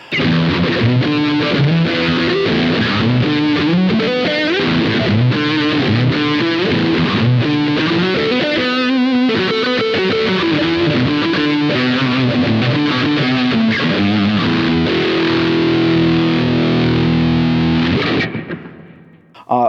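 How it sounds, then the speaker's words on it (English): A heavily overdriven electric guitar, through the straight drive setting of a Boss ME-80 multi-effects board, plays a continuous riff with sustained, gritty chords and busy notes, loud and steady, then cuts off near the end. "drive's supposed to be an advanced straight drive sound that works well in a broad range of situations"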